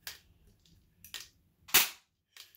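A 1911-style airsoft pistol fires about four sharp, snappy shots at a sticky target, spaced unevenly across a short stretch. The third shot is the loudest and closest. No one talks between the shots.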